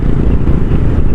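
A motorcycle rides along the road, its engine a loud, close, steady low drone with a slight rattle throughout the short moment.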